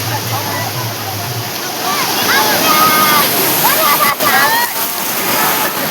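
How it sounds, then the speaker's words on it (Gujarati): People bathing in the sea at Madhavpur during Bhai Bij make a loud, continuous rush of splashing water and churning surf, with voices faintly mixed into the wash. "તમે જોઈ શકો છો કે એ પાણીમાં નાહી રહ્યા છે અત્યારે"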